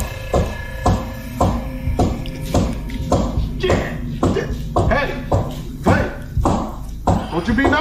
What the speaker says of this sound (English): You better be Ed McMahon with a whole lot of money knocking like that